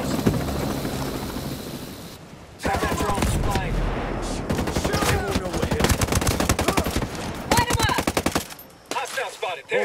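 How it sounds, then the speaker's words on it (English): Bursts of automatic gunfire aimed at hostiles in Ghost Recon Breakpoint, loud and sustained with brief pauses between volleys, alongside a helicopter's engine drone. "Firing on hostiles."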